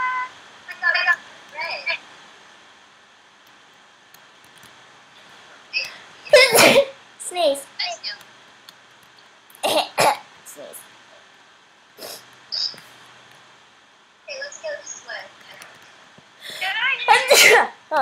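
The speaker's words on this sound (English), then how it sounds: "Oh, that was a better sneeze." Several short, sharp sneezes burst out between quiet gaps, close and loud, with a few other voice sounds and brief chatter scattered around them.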